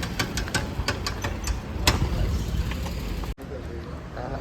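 A used Maruti Alto with a damaged front axle runs close by, a series of sharp ticking clicks over a low engine hum, then a brief cut before the running noise resumes.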